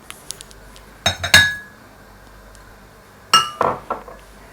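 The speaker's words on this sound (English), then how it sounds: "I'll be transferring my wax into a bowl," Sharp glass clinks as wax is moved into a glass bowl: two clusters of bright ringing taps, a few light ticks at first, then a second burst with decaying rings, close and clear in a quiet room.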